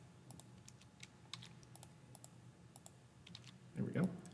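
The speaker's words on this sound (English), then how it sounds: "let's go ahead and start typing our solutions here" Typing on a computer keyboard, a light, irregular run of quiet key clicks heard close by in a quiet room, with a brief low voice murmur near the end.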